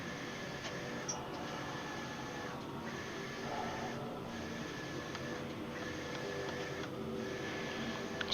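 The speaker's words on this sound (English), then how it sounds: "Sorry about the background noise if you can hear it. It's my printer." A printer runs quietly in a room, its faint mechanical whir and ticking feed cycling in a regular pattern, with short pauses every second or so, and no one talking.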